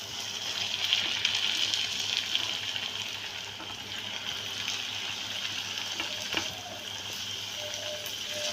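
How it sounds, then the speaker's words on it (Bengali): Evening snacks frying in hot oil, a soft, steady bubbling hiss at moderate distance with occasional faint clinks, fairly quiet and without speech. "এগুলো আমি লাল লাল করে ভেজে উঠিয়ে নেব।"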